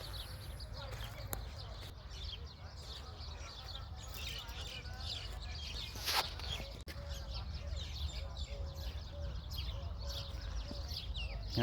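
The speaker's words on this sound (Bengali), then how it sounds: "পাখির ডাক গলা শোনেন" Birds call at Al Areen Wildlife Park and Reserve in Bahrain: scattered high chirps and tweets repeat through the clip over a steady low background rumble, fairly faint and at a moderate distance.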